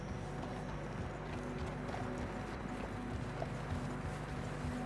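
Horse hooves clip-clopping in Red Dead Redemption 2 while riding through snow, a steady rhythmic clatter of hoofbeats over a constant dense ambient bed, no talk.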